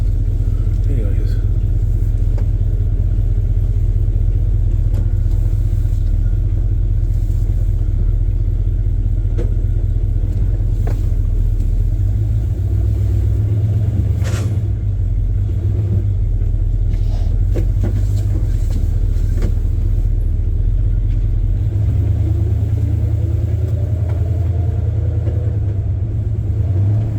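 A Chevrolet squarebody truck's engine runs steadily after a valve adjustment, a deep, loud, continuous rumble that shifts slightly in pitch partway through, with occasional talking over it.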